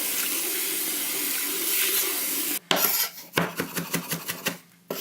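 Water runs steadily from a kitchen tap as stinging nettle leaves are rinsed, then the flow is interrupted by rustling, clattering handling sounds at close range, with no talk.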